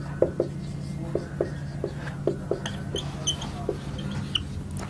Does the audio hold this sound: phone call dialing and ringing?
no